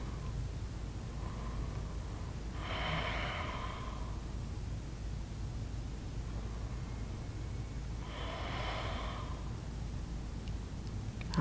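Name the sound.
slow yoga breathing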